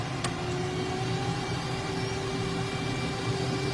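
FA-18 jet engine spooling up to full power at Warnervale Airport, heard as a steady, moderately loud roar with a constant whine running through it and no voices.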